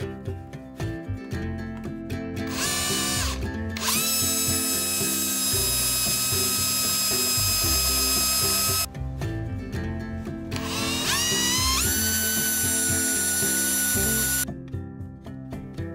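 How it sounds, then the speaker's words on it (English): A power drill whines loudly in two long sustained bursts while boring pilot holes into the ends of a wooden dowel, its pitch rising as it spins up, with brief pauses and mechanical clicking between runs. "I'm going to be drilling some pilot holes into the ends."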